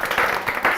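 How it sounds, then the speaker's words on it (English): Audience applause and clapping, a steady wash of many hands at moderate volume, sustained without a break. "Give yourselves a round of applause, everybody."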